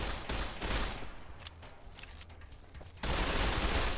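Rapid, loud gunfire in Fallout New Vegas, a dense burst that eases into quieter clatter and then surges back hard near the end, with no voices.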